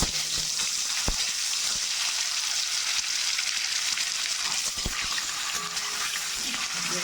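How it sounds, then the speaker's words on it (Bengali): Duck eggs fry in hot oil in a pan, giving a steady, close, bright sizzling hiss broken by a couple of sharp pops, with no talking. "এর মধ্যে ডিমটা দিলে ডিম একটু ফাটে ভাজতে গেলে, ডিমটা একদমই ফেটে ছিটকে আসবে না"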